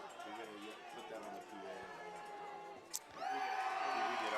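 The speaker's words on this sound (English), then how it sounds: "Oh, the crowd's happy." Fans at a Crabs vs. Medford Rogues baseball game on Alumni Day murmur at first, then surge into louder, sustained cheering near the end after a brief sharp crack. A commentator talks throughout.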